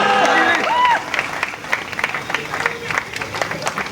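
Applause from an audience at a prize distribution ceremony, scattered clapping and crowd noise following a brief musical tone, moderately loud and uneven.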